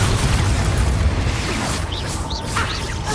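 Confringo fire blast spell in the Hogwarts Legacy video game, a dense rumbling explosive wash with bursts and whooshes that stays loud and steady throughout, then thins toward the end.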